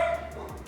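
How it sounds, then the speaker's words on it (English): A single short dog bark or yip sounds indoors, brief and fairly close, with faint background hum. "Sorry for my loud dog."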